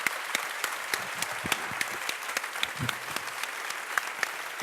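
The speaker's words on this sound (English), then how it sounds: "I would like a very, very warm applause for Professor Stephanie Kelton" An audience claps steadily in a lecture hall after an economics talk, a dense, even patter of many hands heard at moderate distance without speech.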